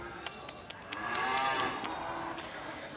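A single long, low moo from a cow at a livestock market rises and fades over about two seconds, with sharp clicks and background bustle around it.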